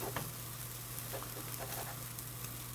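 Food frying in a pan in a home kitchen, a continuous close sizzle with occasional light stirring clicks and a steady low hum underneath.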